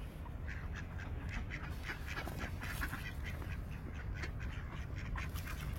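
Hungry ducks in snowy Canada quacking repeatedly in a busy cluster, moderately near over a steady outdoor wash of wind and ambient noise, with no one speaking.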